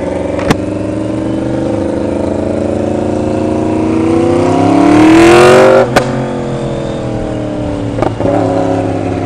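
A loud 2016 Yamaha R1 sport motorcycle engine idles, then revs up sharply in a rising whine before dropping back, with a couple of sharp knocks.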